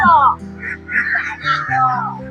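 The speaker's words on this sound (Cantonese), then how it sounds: "係我妹嚟趕鴨啊" Ducks quack in quick, nasal bursts as they are herded, close by and fairly loud, mixed with people's voices nearby.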